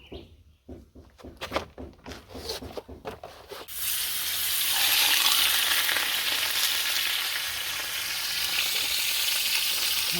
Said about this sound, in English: We already have our frying pan on the fire.